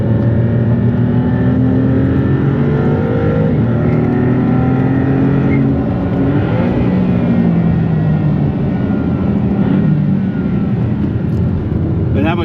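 A 640 hp Maserati GT2 Stradale on a hot lap at The Concours Club Miami roars loud and steady from inside the cabin, its engine rising and falling through gear changes.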